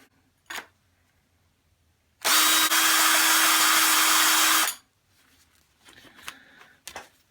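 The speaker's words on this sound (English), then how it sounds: "deburr the in and exterior lips of both ends of the EMT conduit" A Klein hand deburring tool is twisted inside the end of EMT electrical conduit, giving a loud, steady scraping rasp of about two and a half seconds. It is set between a few faint clicks and handling knocks.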